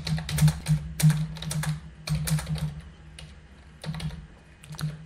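JavaScript code is typed on a computer keyboard in quick irregular clusters of close, crisp keystrokes separated by short pauses.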